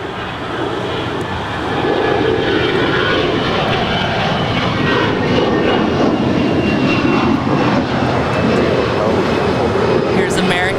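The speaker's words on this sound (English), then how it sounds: "Here's American 2967 off to DFW on an A321" An American Airlines Airbus A321 departing LAX for Dallas roars with a loud, steady jet engine rumble that builds and holds, with faint talk over it.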